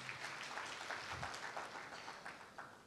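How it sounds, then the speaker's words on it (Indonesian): Applause from a church congregation rises at a preacher's prompt, a fairly faint, even patter of many hands clapping that slowly tapers over a few seconds. "Yang setuju berikan tepuk tangan yang meriah."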